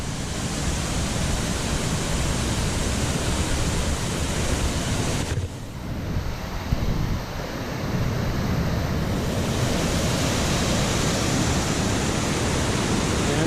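A waterfall with water pouring over a precipice gives a loud, steady, broadband roar that eases briefly midway before returning to full strength, with no voices.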